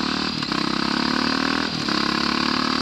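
A KTM 530 supermoto motorcycle revs hard, its loud, close engine holding a steady high-pitched drone with two brief dips as the throttle is blipped, no voices over it.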